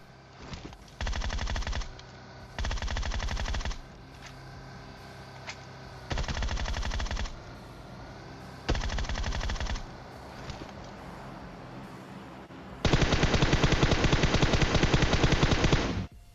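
Gunfire in the mobile battle-royale game PUBG Mobile: four loud bursts of rapid automatic fire at roughly even intervals, then a longer sustained burst near the end, with no talk.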